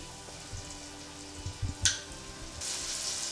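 Homemade curry paste frying in a pot for Trini curry chicken, a soft sizzle with a few bumps and a sharp splattering burst midway, then a brighter, steadier hiss swelling toward the end.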